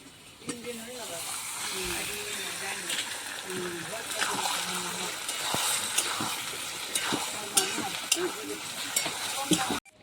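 Chicken offal frying and being stirred in a pan, a hissing sizzle with stirring clatter running under a person talking throughout.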